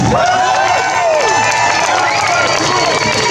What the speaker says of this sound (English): I want you to give them the biggest round of applause you can give them right now.